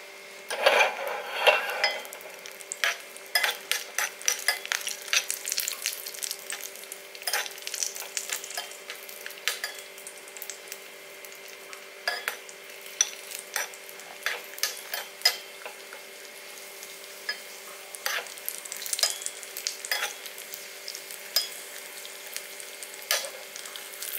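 Cashews and raisins sizzle and crackle in ghee in a pan, a continuous bright fry with scattered pops and light stirring ticks throughout, no voices.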